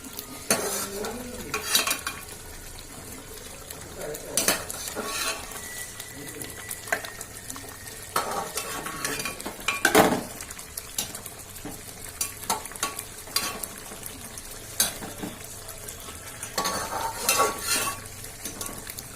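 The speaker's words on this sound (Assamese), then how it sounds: "ধুনীয়াকৈ চিকেনখিনি মই টুকি দিম" Chicken for a momo filling is stirred and handled in a pan, with repeated scraping and clattering of a utensil against metal over a soft frying sizzle, close by and in uneven bursts.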